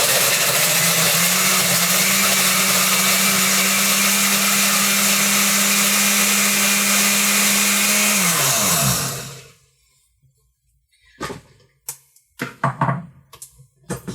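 Electric blender mixing a pina colada with ice, running loud with a steady motor whine for about nine seconds, then spinning down to silence, followed by a few faint knocks and clatters.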